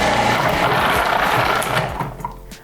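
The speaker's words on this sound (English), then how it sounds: "We're gonna grate these in a food processor because ain't nobody doing all that." A kitchen food processor grates carrots for a carrot cake. The motor gives a dense, rough whirring grind that runs for about two seconds and then winds down and fades.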